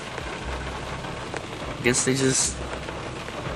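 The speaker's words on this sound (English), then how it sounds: "I guess people just don't see that it's raining today." Steady rain falls on a wet street in Florida, a constant hiss of drops on pavement with a brief rise of passing traffic in the middle, while someone talks over it.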